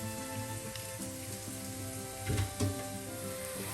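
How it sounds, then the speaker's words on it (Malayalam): Bitter gourd slices frying in hot oil, a soft continuous sizzle with a couple of brief bubbling bursts, close but low in level. "ബാക്കിയുള്ള പാവയ്ക്ക ഇതേപോലെ തന്നെ ഫ്രൈ ചെയ്ത് മാറ്റാം"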